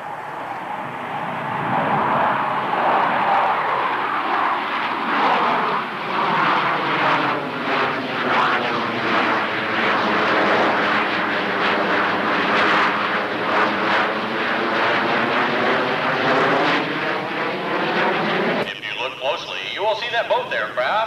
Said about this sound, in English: All 4 aircraft rolling as one, this time in the carrier landing configuration.